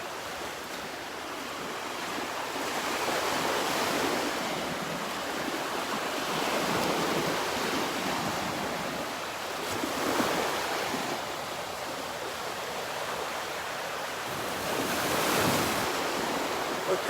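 Surf rolls onto a sunlit beach at Delnor-Wiggins, with broad washes swelling and receding every few seconds in a steady, moderately distant roar, lightly touched by wind and with no voices.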